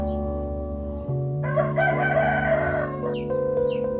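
A rooster crows loudly and close by, one long drawn-out cock-a-doodle-doo rising and holding, with other fowl noise faintly around it.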